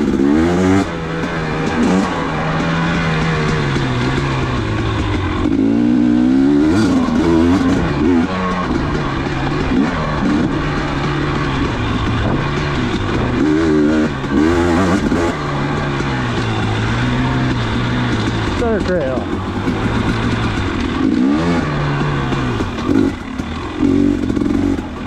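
Off-road vehicle engine on an OHV dirt trail, running steadily close by as the revs rise and fall through gear changes, with clattering over rough ground throughout.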